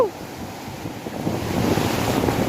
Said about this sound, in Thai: คลื่นโคตรแรงเลย